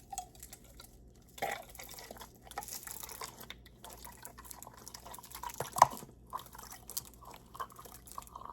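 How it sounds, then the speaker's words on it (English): Frozen aloe drink, slushy in texture, poured into a small cup; soft intermittent liquid drips and slushy splashes at close range, fairly quiet, with one sharper splash near the end and no talking. "I have this aloe drink that I'm gonna pour in here."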